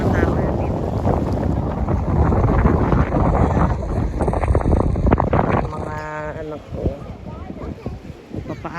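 Strong gusting wind at Elk Lake National Park buffets the microphone in loud, uneven rushes, with people talking underneath and a voice briefly rising near the end.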